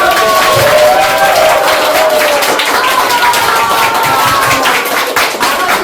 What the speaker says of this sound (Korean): 자, 다시 박수를 열심히 치시고 나가실